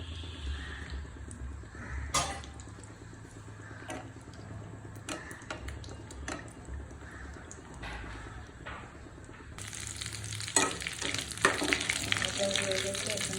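Potato egg crackers sizzle and fry in a hot pan, a soft, steady crackle with occasional ticks and clinks of a utensil, the frying growing louder near the end as more pieces go in.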